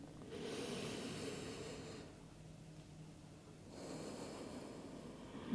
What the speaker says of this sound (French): Une dernière respire.